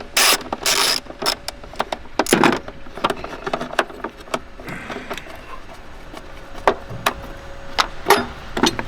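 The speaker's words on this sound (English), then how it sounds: "To clamp off, I'm just going to remove the clamp entirely." A hose clamp is worked off the thermostat housing water outlet of a Mazda 3 or 6, giving close, irregular clicks, scrapes and metallic rattles with short bursts of rubbing throughout.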